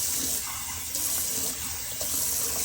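Water runs and drains in a bathroom sink, a steady close rushing with faint splashy variation throughout, no talking.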